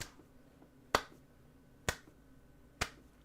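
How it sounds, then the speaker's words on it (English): Three slow, evenly spaced claps from one person applauding himself, sharp and close, each followed by a short quiet gap in an otherwise silent room. "I guess I'll just clap for myself."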